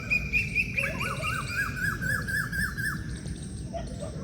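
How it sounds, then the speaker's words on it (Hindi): An Asian koel calls outdoors in the early morning, sending a rapid series of repeated, fairly close whistled notes over a steady background hum, with no one talking. "कोयल चहक रही है"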